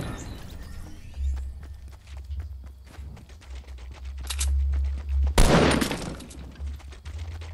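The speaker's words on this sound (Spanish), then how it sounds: "Y escucho disparos acá bastante cerca." Gunfire close by in the Fortnite battle royale game cracks out in scattered shots among footsteps and movement sounds, with one loud burst near the end, and no voices over it.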